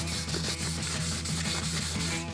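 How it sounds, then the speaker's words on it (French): An Abarth wheel rim is sanded to a matte finish, giving close, loud rhythmic rubbing strokes repeating about five times a second throughout. "Une fois le ponçage terminé,"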